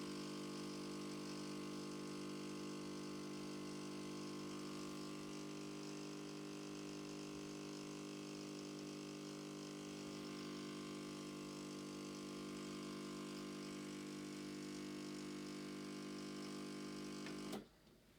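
The pump of a Gemilai 3007L espresso machine, fitted with a Gaggia Classic OPV, runs as a steady, close vibratory hum that holds unchanged for about seventeen seconds and then cuts off abruptly.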